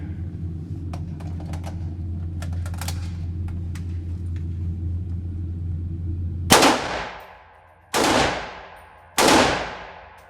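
A rifle fired until empty, three loud close shots in quick succession, each ringing out and decaying, following a stretch of low mechanical hum and small clicks.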